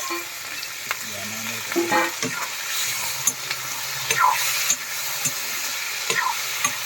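Meat fries in a wok with onion, chili, ginger and garlic, a close steady sizzle with repeated spatula scrapes and clicks, no talking.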